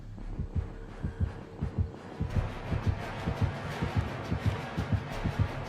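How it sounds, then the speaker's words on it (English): A killer's terror-radius heartbeat in the horror game Dead by Daylight thumps in a steady, deep double-pulse rhythm, close and prominent, with a droning musical hum swelling in underneath partway through. "The closer the killer gets to you, the louder and faster the heartbeat and music gets."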